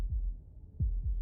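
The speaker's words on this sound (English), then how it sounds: "That was the sound of a heartbeat." Heartbeat in a video game: low, muffled thumps in a slow lub-dub pattern, two or three beats heard close and alone over a faint low hum.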